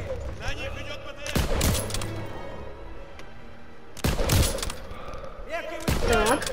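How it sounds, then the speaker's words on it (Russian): Gunfire crackles in the Call of Duty WWII video game as sharp, loud volleys burst out three times among battle noise, with a voice speaking between shots. "Их обстреливают сзади."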